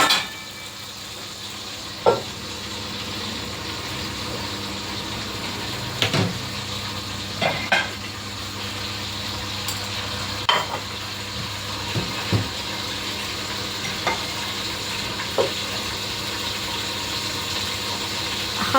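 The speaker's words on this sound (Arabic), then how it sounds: "خلاص ما فاضلش بقى غير ان انا احمر نص الفرخة." Half a chicken fries in a pan with a steady, close sizzle, broken by occasional clinks and scrapes of utensils against the cookware.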